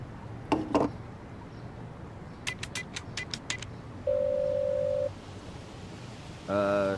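Inside the Black Mirror 3 video game, a phone is dialed with a few beeps, then a single steady line tone sounds for about a second, among clicks and light background noise.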